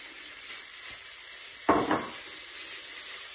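Ground beef hits hot olive oil in a roasting pan, giving one sharp burst of sizzle that fades into a steady, moderate frying hiss, with faint stirring before it.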